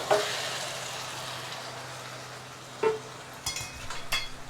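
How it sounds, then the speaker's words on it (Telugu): Marinated mutton frying among softened onions in a pan, giving a steady close sizzle with a few sharp clinks and scrapes of stirring near the end. "ఇప్పుడు ఇందులో మనం ఆల్రెడీ మ్యారినేట్ చేసి ఉంచుకున్నటువంటి మటన్ యాడ్ చేసేద్దాం"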